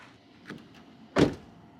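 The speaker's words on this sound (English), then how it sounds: "All right, let's close this door." A 2026 Toyota Land Cruiser door swings shut with one solid, close thunk, preceded by a soft faint rattle of the handle, outdoors in cold weather.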